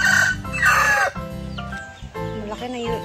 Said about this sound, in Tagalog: Dito yung mga manok, kulungan ng manok